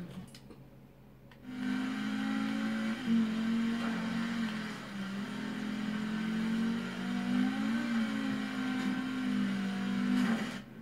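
A four-wheel-drive car engine in a driving video game hums steadily, its pitch rising and dipping gently as the throttle changes, moderately loud and without talk.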